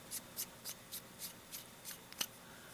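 An Opus 88 Omar eyedropper fountain pen is unscrewed with a series of about nine short, crisp, rhythmic ticking scrapes, close and quiet against a hushed background.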